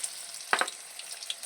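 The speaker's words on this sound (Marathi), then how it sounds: "आता त्याच्यात घालूया आपण कांदे." Onions dropped into hot oil with garlic already crackling, giving a short sizzling burst of frying with a couple of quick splattering pops, close and fairly quiet.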